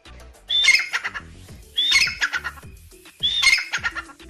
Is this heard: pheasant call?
yes